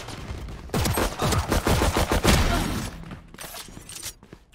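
Rapid bursts of gunfire in a tactical shooter match, a dense run of sharp shots over about two seconds, loud and close, then fading into quieter game noise.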